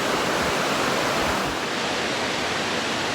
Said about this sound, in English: We have seen some cool waterfalls on this section of the AT, but that one might take the cake.